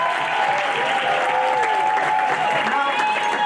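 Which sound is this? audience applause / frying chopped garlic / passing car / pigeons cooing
audience applause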